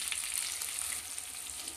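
Ground spice paste added to a pan of oil with fried ginger: a soft, continuous sizzle with faint crackles, fairly quiet and close, no voices.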